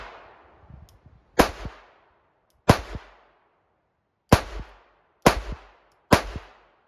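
Five sharp .22 revolver shots from a Charter Arms Pathfinder or Ruger SP10 with Winchester white box ammunition at an outdoor range, spaced irregularly over several seconds, each a crisp loud crack with a short echo.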